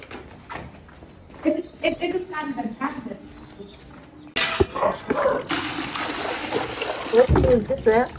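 Cold water is poured over a person named Rohan, bathed outdoors in chilly weather. Voices talk through the first half, then a sudden loud, steady splashing pour starts midway and continues under more talk.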